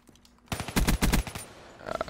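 Hip-fired MP5 bursts in Black Ops 3, a tight cluster of loud, close rapid shots packed into under a second, followed by quieter game noise.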